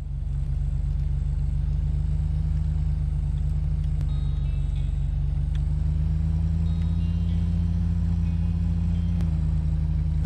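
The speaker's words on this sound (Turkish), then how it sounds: "Yalnız vites atmıyor galiba bu araba." Car engine running steadily in the Bad Way action game, holding one unchanging pitch without any gear shifts, loud and continuous throughout.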